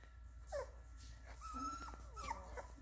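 Doodle puppies whimper and yip in a few high, wavering cries, close by and fairly quiet over a low steady hum.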